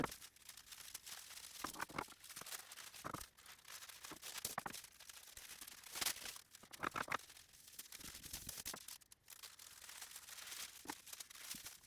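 Scissors snip and crunch through fabric being cut out for a made-to-measure dog coat, soft crinkling cuts repeating irregularly, close and quiet with no talk.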